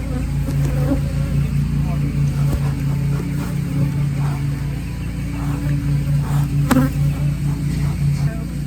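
Honeybees swarm around an opened beehive during beekeeping work, their dense, continuous droning hum filling the scene close by, steady in pitch with slight swells.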